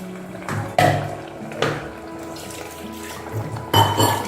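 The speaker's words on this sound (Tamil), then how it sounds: "எவ்வளோ தண்ணி வேணுமோ எல்லாம் இப்போவே ஊற்றிடணும்." Water pours and splashes into a pot of fish curry, with a steady liquid rush broken by a few louder clanks of a vessel against the pot and no talk.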